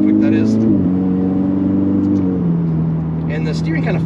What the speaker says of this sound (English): Shifting's quicker. It's a dual clutch, so.